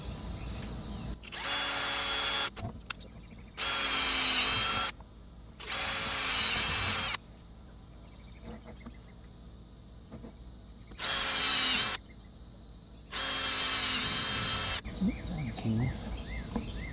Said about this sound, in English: Alright, I'm going to get my drill so I can put the holes in it.